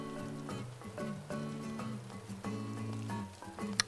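Rain patters steadily in the Animal Crossing New Horizons video game, heard faintly as a soft hiss under a low, repeating musical backing.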